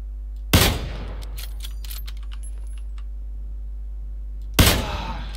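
Gunfire in a video game, two sharp loud shots about four seconds apart, each decaying quickly, over a steady low hum and faint keyboard clicks.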